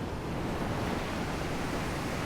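Sea surf on Ganeshgule, a clean white-sand beach beside Ganpatipule on the Konkan coast, heard as a steady, close, continuous wash of breaking waves with some wind and no voices.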